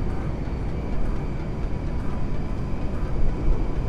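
An airplane flying overhead in GTA, a steady broad engine roar that holds constant and swells slightly near the end, with no speech over it.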